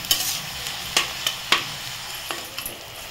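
Chopped onion and tomato cooking on a gas flame in a pan for pav bhaji, with a spatula stirring and scraping in a few sharp, irregular strokes over a soft steady sizzle.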